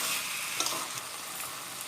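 Chicken pieces sauté in masala in a pan over raised heat, giving a dense, loud, continuous sizzle with a few faint stirring knocks.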